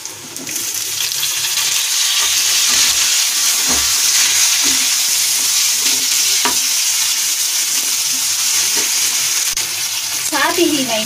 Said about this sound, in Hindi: इधर ये हमारे प्याज भुनने लगे हैं, अब मैं इसमें टमाटर डालूंगी प्याज के अंदर